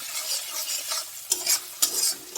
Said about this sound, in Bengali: দিয়ে দিচ্ছি কাশ্মীরি লঙ্কা গুঁড়ো তেলের ওপর